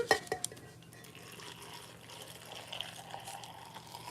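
Hot water is poured into jars of green tomatoes for pickling, a soft, steady trickle and splash that starts with a couple of sharp clinks against the glass and then continues quietly.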